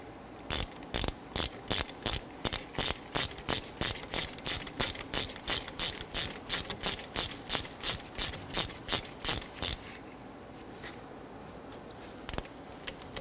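A hand ratchet snugs the front brake caliper bolts on a 2006-2014 Honda Ridgeline, giving a close, sharp run of about thirty evenly spaced clicks. The clicking then stops, leaving quiet and one last click.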